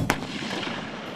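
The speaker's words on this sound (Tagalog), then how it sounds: "Sunod-sunod na putok ang pinakawalan ng Sabra light tanks ng Philippine Army." A single sharp blast from a Sabra light tank firing during a Philippine Army live fire exercise, followed by a rumbling, noisy tail of echo and wind across the rest of the moment.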